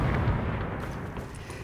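A loud explosion in the video game The Division, heard as a dense, rumbling blast that fills the whole moment and fades slightly toward the end.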